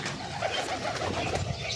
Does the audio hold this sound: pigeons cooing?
yes